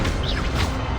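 A short, close crash of the Expelliarmus spell striking in Hogwarts Legacy, a sharp burst with a brief swishing sweep rising through it, heard alone.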